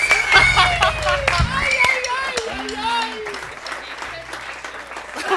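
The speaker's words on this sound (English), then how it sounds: "the people are clapping" An audience at a live band show claps and applauds with scattered cheers, while voices talk over the crowd noise throughout.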